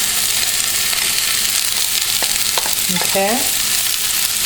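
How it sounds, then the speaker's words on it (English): Peppers and onions frying in a little olive oil in an iron skillet, a steady broadband sizzle throughout with a brief spoken word over it near the end. "I'm using an iron skillet, and I'm going to put a couple teaspoons of olive oil, and you want to go ahead and put in your peppers and onions"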